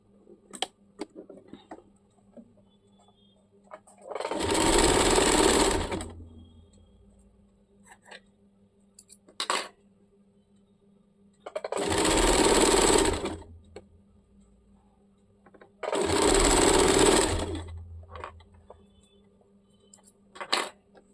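A sewing machine stitches fabric for a churidar in three separate bursts of a few seconds each, with quiet gaps and light clicks between runs, close and clear with no talk.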